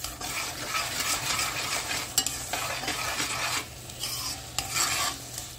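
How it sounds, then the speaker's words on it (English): Flour stirred into onions that have slow-cooked for about two hours in a pan, heard close up as busy scraping and light sizzle with short pauses between strokes. "Give that a stir."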